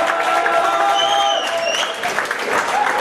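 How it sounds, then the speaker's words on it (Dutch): A crowd at a fight event applauds and cheers for the fighters, a dense burst of clapping with whistles and shouts over it, loud and close throughout the short stretch. "Ik wil graag eerst een daverend applaus voor deze kanjers."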